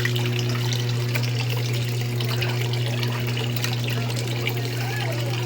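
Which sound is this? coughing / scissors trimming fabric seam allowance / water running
water running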